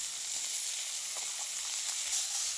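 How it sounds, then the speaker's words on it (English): Garlic sizzling in a hot pan, a bright, steady, close hiss of frying that holds evenly throughout. "in goes the garlic"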